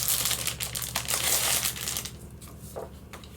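Sheets of vintage 100 GSM American letter size paper crinkle and rustle as they are handled, a busy, close crackling that fills the first two seconds and then thins to a few softer rustles.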